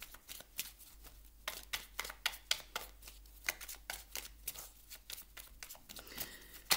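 Oracle cards riffled and handled from a deck, giving a quick run of soft papery flicks and slaps, close and fairly quiet, with no talking.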